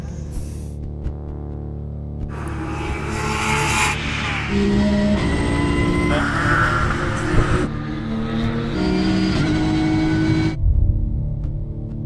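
A Porsche race car at Le Mans is heard close and loud, its engine droning and revving through several shifting pitches across a sustained pass with no voices.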